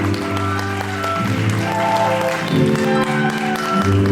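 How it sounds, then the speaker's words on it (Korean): Steady crowd applause at a Korean wedding ceremony as the two mothers enter, continuing throughout, mixed with music and a voice speaking over it. "두 분께 더큰 박수 보내주십시오."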